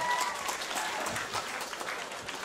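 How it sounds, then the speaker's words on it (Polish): Audience applause for volunteer fire brigade youth orchestras at a brass band review in Poland, a steady, moderately loud roar of clapping with a faint voice briefly at the start. "Brawa, gorące brawa do naszych orkiestr"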